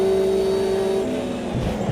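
Race car engine in the Automobilista 2 racing game: a loud, steady, high-pitched engine whine holding one note, then dropping off and roughening slightly as the car lifts off, with no talk.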